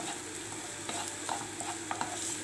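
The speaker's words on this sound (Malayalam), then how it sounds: "2 മീഡിയം സൈസ് സവാള, ഏകദേശം വലിപ്പമുള്ള സവാള തന്നെയാണ്, അതിട്ട് കൊടുക്കാം." Onions sizzle in a pot for one-pot butter chicken while being stirred, a soft steady frying hiss with faint scraping clicks from the spoon, fairly quiet and close.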